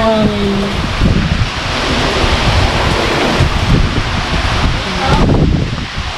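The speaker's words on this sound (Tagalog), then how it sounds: "narinig ko yung hangin. So, lakas diba?" Strong typhoon wind with rain in Pasig, a broad steady roar of gusting air and rainfall that continues loud throughout, with brief faint voices at the start.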